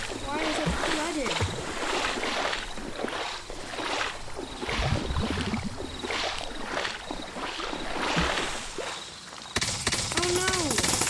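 Flood water splashes and sloshes in rhythmic surges in the video game Bloxnite 2, fairly close, with excited talk over it.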